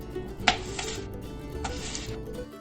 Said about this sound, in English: Chopping up the tomatoes.